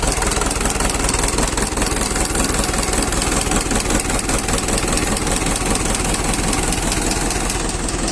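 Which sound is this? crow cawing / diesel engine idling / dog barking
diesel engine idling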